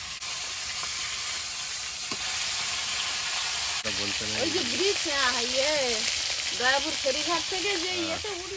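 Boal fish fries in hot oil, a steady hissing sizzle that continues under people talking in the second half.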